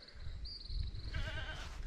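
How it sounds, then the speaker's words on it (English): A tethered goat bleats on a rural roadside in Jamaica, one drawn-out, wavering call standing clearly above a steady low rumble of outdoor background noise. "It's a goat."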